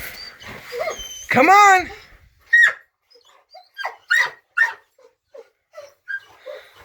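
A dog whimpers and lets out a loud yelping bark outdoors during a shed antler hunt, followed by a string of short, high whines and yips, while a person speaks briefly to it.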